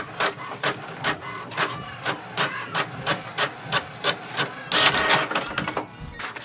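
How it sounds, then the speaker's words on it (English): An HP Envy 6000 series all-in-one inkjet printer printing an information page gives off a quick series of rhythmic mechanical whirs and rasping pulses, close and loud, with a busier burst of feeding noise near the end. "it will send a command for the printer to print the printer information page"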